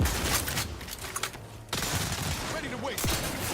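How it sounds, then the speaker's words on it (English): Shotgun blasts and rapid gunfire in a firefight in The Outer Worlds 2, a sharp volley of loud, close shots and bursts mixed with game voices and effects. "Use the shotgun."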